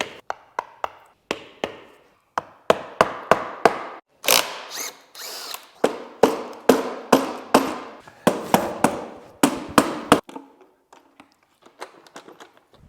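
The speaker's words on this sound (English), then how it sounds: "hammer and a chisel. I'll knock some of this plastic off." A hammer drives a chisel to knock plastic off a dismantled Ford Focus RS engine: sharp metallic-plastic knocks in irregular bursts, some single taps and some quick runs of strikes, loud and close with no talking.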